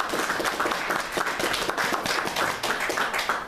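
An audience at a church meeting claps continuously, a dense, lively round of applause with no talking over it.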